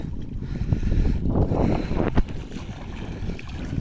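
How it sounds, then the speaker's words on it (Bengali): Strong wind gusting over the Gorai river, buffeting the microphone with a loud, low rumble that swells and eases, one sharper gust near the middle. "নদীতে আজ প্রচুর পরিমাণে বাতাস"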